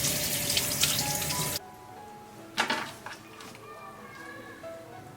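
A cleaned mandarin fish is rinsed under a running kitchen tap, a steady hiss of flowing water that cuts off after about a second and a half, followed by quieter clinks and handling sounds at the sink.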